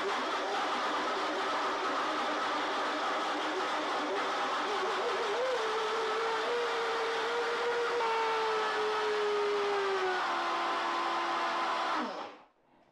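A blender or food processor whirs steadily as it grinds dates for homemade vanilla ice cream, its motor pitch wavering and slowly dropping before it cuts off abruptly at the end.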